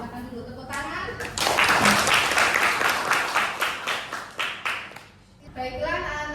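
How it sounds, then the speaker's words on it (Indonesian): A class of children in a school lesson claps together for about four seconds, a dense burst of hand claps that fades out, with a teacher's voice speaking before and after. "Ya, silakan dulu tepuk tangan."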